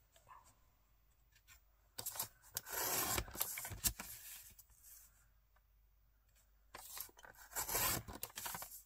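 Paper sliced with a blade cutter while making a scrapbook album, two short bursts of dry scraping, rasping strokes close by, separated by quiet pauses.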